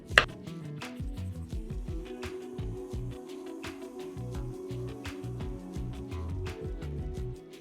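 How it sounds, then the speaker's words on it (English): Chunks of avocado being mashed for chunky guacamole with a meat-tenderizing masher rather than a fork: a steady run of soft, rapid thumps and squelches, close and fairly even in rhythm, with no voices. "I have mashed the avocado"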